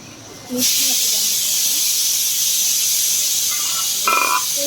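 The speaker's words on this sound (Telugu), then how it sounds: "కొంచెం బాగా ఫ్రై అయ్యింది" Mango dal with lentils frying in a pan gives a loud, steady hiss that bursts in abruptly after a short quiet start and runs on evenly, with a few faint tonal clinks underneath.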